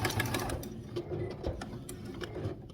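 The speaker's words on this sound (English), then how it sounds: "I'll do a couple back stitches" A sewing machine stitches a vintage quilt table runner's binding at a mitered corner, running steadily with rapid close mechanical clatter and brief back-stitch changes in rhythm.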